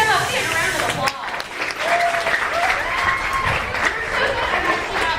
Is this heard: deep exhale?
no